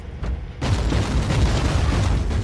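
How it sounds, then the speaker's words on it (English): An object blows up in Warhammer 40K Inquisitor Martyr, a sudden loud blast that turns into a dense, sustained rumbling roar lasting a couple of seconds. "Hey, look, an object exploded."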